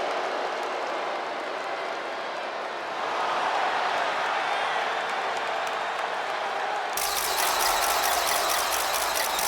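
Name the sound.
arena crowd cheering a wrestler's entrance, WWE 2K25 video game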